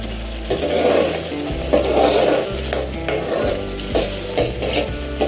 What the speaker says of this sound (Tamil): நல்லா கொதிச்சு வருது